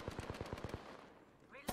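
Rapid burst of gunfire from the Alternator weapon in a video game, about eight evenly spaced shots in quick succession, followed by a brief pause and one more sharp report.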